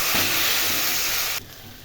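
Steady loud hiss of taro stolons frying in a hot pan, broad and sizzling, cutting to a quieter hiss near the end.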